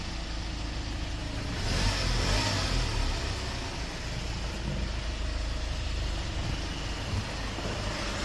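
A 2015 Hyundai Porter II one-ton double-cab truck's Euro 5 engine, with a particulate filter, runs steadily nearby, a low rumbling drone that swells briefly before settling back to an even idle; no talking.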